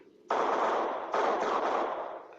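Bursts of rapid automatic gunfire in a video game, two loud sustained volleys back to back with a brief break between them, heard alone with no talking.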